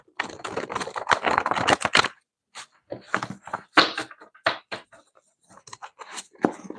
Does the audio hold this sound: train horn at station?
no